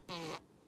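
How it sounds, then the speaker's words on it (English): A single short fart, a buzzy burst lasting about a third of a second, then quiet. "Did you fart?"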